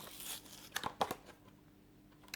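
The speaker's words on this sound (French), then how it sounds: "Je vais ouvrir la Porsche Panamera Turbo" Packaging for a Majorette Porsche Panamera Turbo toy car is opened up close, with a rustle followed by several quick crinkling, tearing bursts, then near silence.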